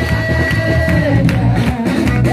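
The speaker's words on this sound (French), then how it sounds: "Acclamez, acclamez. Acclamez le Seigneur." A loud crowd at a night vigil cheers and acclaims the Lord, voices shouting and whooping together with sustained tones underneath.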